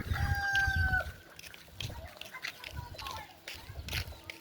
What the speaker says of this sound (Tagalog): may mga manok rin dito